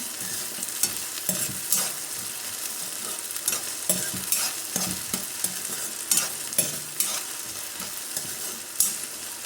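Two medium potatoes, cut into small pieces, fry in a pan with a steady sizzle. Repeated scraping stirs break in up close throughout.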